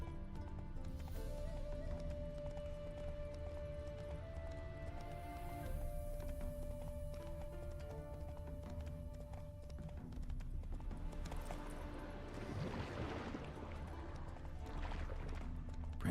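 Steady hoof clip-clop of a horse moving at pace in The Witcher 3, heard under a thick layer of music and ambient game sound.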